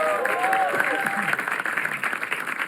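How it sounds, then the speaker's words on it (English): A studio audience at a comedy talent show breaks into steady applause, a dense wash of clapping with crowd noise and a voice speaking over it. "Can we have a round of applause for Alia Bhatt?"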